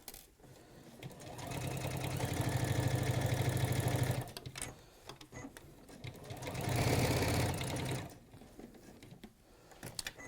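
A sewing machine stitches quilt strips in two sustained runs of steady, rapid needle chatter, close and fairly loud, separated by a brief pause with light handling sounds.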